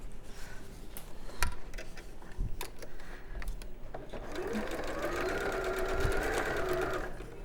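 A sewing machine stitches along the raw edge of a folded fabric panel with a steady close mechanical whir and rapid needle ticking that rises into a louder humming run toward the end.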